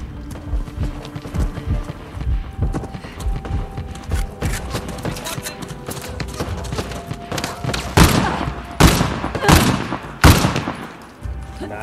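Gunfire in Uncharted: The Lost Legacy, a run of scattered gunshots building into loud, closely spaced bursts near the end, mixed with footsteps and game action, with a voice heard at times.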